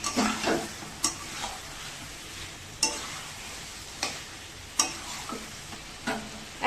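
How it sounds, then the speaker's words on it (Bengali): Meat and potatoes stir-fried in oil for a kosha curry sizzle steadily, with sharp spatula scrapes and clinks against the pan every second or so, close up and with no voices. "না ঢাকা দেবো না এইভাবেই কষাবো"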